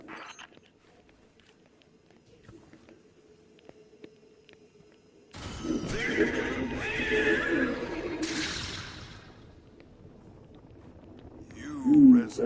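Horse neighing in the video game Destiny 2, a whinny and clip-clop burst that starts suddenly after quiet, followed by fainter noise and a short loud cry near the end, with a voice speaking over parts.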